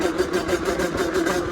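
A fully tuned Sherco 50cc motorcycle with an AM6 two-stroke engine runs steadily, its buzzing drone pulsing with a quick, even rhythm, close and loud, with no one talking.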